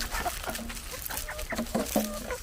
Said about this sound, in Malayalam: അന്നേരം പ്രശ്നമുള്ളൊരു കോഴി ഉണ്ടായിരുന്നു അതിന് ഇന്നേരം കുഴപ്പമില്ലായിരുന്നു